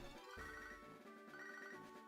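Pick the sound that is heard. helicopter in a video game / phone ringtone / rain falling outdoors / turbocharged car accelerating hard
phone ringtone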